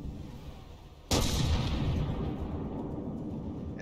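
A cannon shell strikes a tank turret in From The Depths, landing as one sudden loud impact about a second in, then fading into a sustained rumbling wash of noise.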